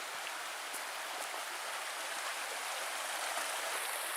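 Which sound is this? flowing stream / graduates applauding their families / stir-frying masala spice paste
flowing stream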